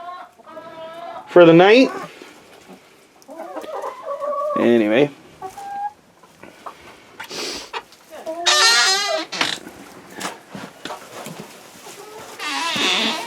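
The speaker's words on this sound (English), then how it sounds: "all the chickens up on their roost there" Chickens on their night roost on a goat farm cluck and squawk in scattered loud bursts, with a person talking briefly in between.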